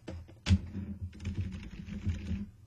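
Typing on an Emprex Cheetah gaming keyboard: close, loud clacking keystrokes in quick irregular runs, with a heavier thunk near the start and no speech.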